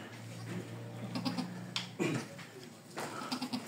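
A goat that has just given birth bleats several times in short, fairly faint calls, with rustling and farmyard noise around them.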